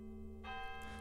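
A church bell tolls with a sustained, ringing tone that swells in partway through and keeps humming steadily to the end.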